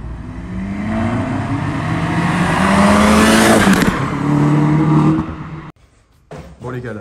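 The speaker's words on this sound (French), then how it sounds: "Est-ce que tu peux nous la mettre en route et vite fait écouter le son à l'arrêt" A stationary Opel Corsa D OPC with a full straight-pipe exhaust revs hard and climbs to a loud roar, then drops off abruptly, followed by a short pause and a few lower rumbling bursts.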